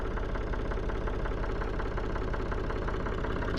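A 1965 Ford 3000 tractor engine idles steadily close by, a continuous low rumble with a fine rapid knock running through it and no voices over it.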